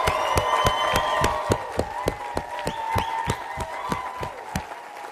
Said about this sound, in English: we're going to end by giving them the biggest round of applause they probably ever had in their life